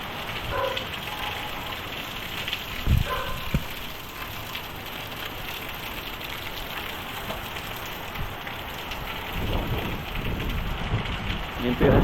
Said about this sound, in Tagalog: Lakas po ng hangin sa kaulan.